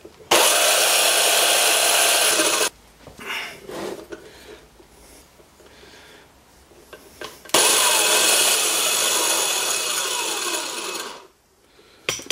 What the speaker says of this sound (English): It's my big drill.